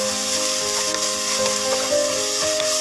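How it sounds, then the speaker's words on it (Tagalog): Pork sautéing with shrimp paste (bagoong alamang) in a pan for laing, a steady, loud sizzle with light stirring scrapes, close up and continuous without talk. "Igisa lang ito kasama ng pork."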